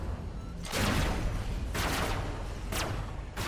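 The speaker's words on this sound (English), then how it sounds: "Oh, shooting at me" Gunfire in the Robocraft vehicle combat game, a low rumbling barrage with about three sharper blasts standing out over a constant heavy background, fairly quiet and without talk.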